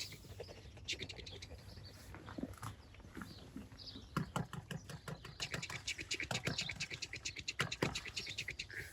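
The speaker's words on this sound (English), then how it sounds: "That's a lovely noise, hemp, isn't it, when you sprinkle it in?" Hemp seed bait sprinkled by hand onto the water of a drain while pole fishing makes a soft, rattling patter of many tiny pellets, like a rain stick, repeating in light bursts close by.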